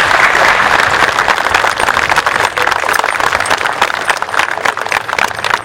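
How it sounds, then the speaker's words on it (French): Loud, sustained crowd applause for bikers at the Madonna of the Bikers mass in Porcaro, a dense, even roar of many clapping hands throughout. "On vous applaudit bien fort"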